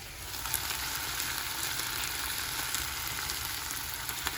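Salmon pieces fry in a pan with a steady, close, hissing sizzle that holds evenly throughout, punctuated by occasional small spits and pops, with no talking.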